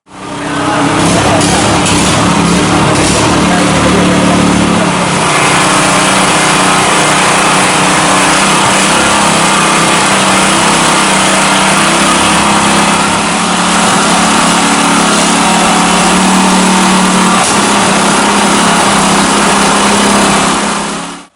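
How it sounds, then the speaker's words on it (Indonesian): A water suction pump engine runs steadily while draining floodwater at a flooded mosque, its loud continuous mechanical drone holding close and unbroken throughout with no talk over it. "Selain itu, relawan KKB juga membawa peralatan wan mesin penyedot banyu untuk melakukan aksi babarasi"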